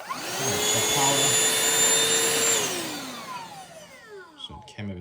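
A Shark cordless pet handheld vacuum whirs with a steady high motor whine, then spins down and fades, ending with a few handling clicks and light rustles.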